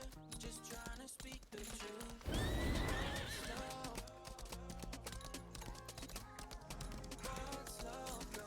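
Horse neighing with whinnies and steady clip-clopping hooves in a video game, sounding close and loud over a layered game soundtrack, with no talk.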